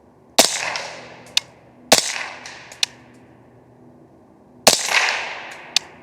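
Subsonic .300 Blackout rifle rounds fired outdoors, three loud sharp cracks with echoing tails, each trailed by a smaller snap, the last shot after a longer pause; no one talks.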